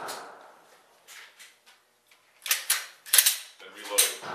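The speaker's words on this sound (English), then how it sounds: "I'm gonna have to rip the magazine out, then I'm gonna have to rack the slide" Pistol magazine pulled out and slide racked repeatedly to clear a malfunction, a series of sharp close metallic clacks and snaps in quick succession after a quiet stretch.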